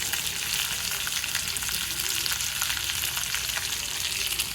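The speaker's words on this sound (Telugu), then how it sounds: "ఇప్పుడు వీటిని బాగా వేయించుకోవాలి" Chopped ginger and green chillies fry in hot oil in a pan for poha upma, giving a close, steady, dense sizzle that holds evenly throughout with no one talking.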